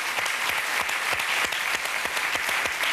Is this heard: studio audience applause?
yes